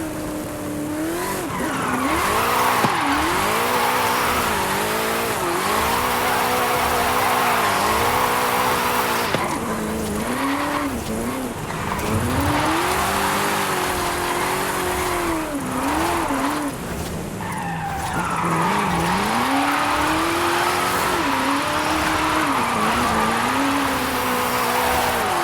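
A muscle car drifting in Forza Horizon 5, its engine revving and wavering continuously while tires squeal loudly and steadily throughout, close and dominant with no pauses.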